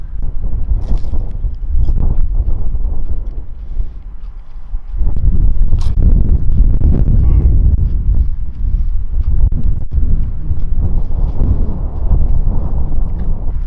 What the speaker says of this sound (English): It's a bit windy down here. I'm not sure if you can hear it in the microphone